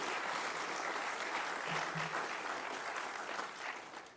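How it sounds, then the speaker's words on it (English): A crowd at a machining apprenticeship graduation applauds steadily and loudly, the clapping holding even before tapering off slightly at the end. "let's give the families a round of applause as well"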